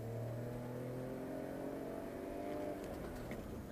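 A BMW X5's engine revs hard under heavy acceleration on an open road, a loud, continuous rising drone heard close from inside the cabin with steady road noise beneath it.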